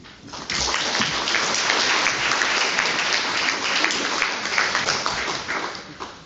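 Sustained applause from a chamber of commerce audience welcoming a speaker, a dense steady wash of many hands clapping that starts abruptly and holds at full loudness throughout.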